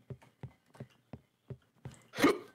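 Series of short rhythmic gulping throat sounds in a Pacify horror game session, followed by a louder, harsher burp-like outburst at the end.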